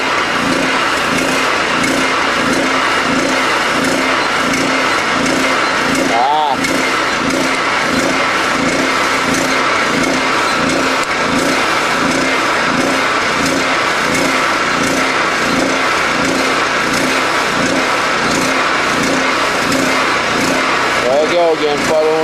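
Small gasoline generator engine running on HHO from a fuel cell, a loud, steady, close mechanical drone with a fast repetitive pulse that barely changes over the whole stretch.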